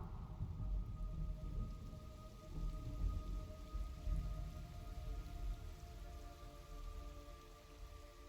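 Steady rain falls in the Metal Gear Solid video game, a continuous hiss with low rumbling thunder underneath and a faint sustained tone, no voices present.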